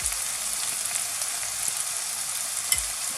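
Onions frying in oil with turmeric powder for Bengali potato fry, a steady loud hiss of sizzling close by, with a couple of soft stirring bumps and no talking.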